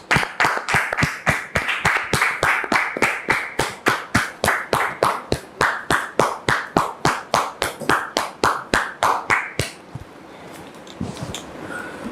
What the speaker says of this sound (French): Nous vous demandons, bien sûr, avec votre permission, de la recevoir sous vos applaudissements.